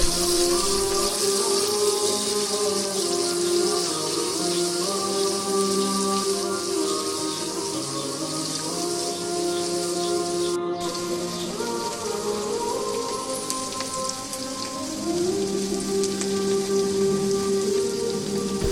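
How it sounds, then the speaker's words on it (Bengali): Chopped onions fry in hot oil in a pan with a constant rain-like sizzle and crackle, steady and fairly close, over soft background music. "তারপর পেঁয়াজ কাটা 1 কাপ ঢেলে দিলাম। 5 মিনিট"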